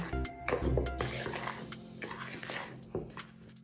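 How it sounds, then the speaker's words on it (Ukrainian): Sesame seeds, sugar and salt are stirred together in a bowl, close clinks and scrapes of a utensil against the dish with soft gritty rustling, no talk. "Всі сухі продукти перемішуємо."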